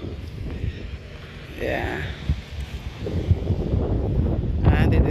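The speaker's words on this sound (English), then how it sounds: "And it's sort of windy too." Gusty wind buffets the microphone in low, rumbling bursts at a bushy cemetery, with a voice speaking briefly over it.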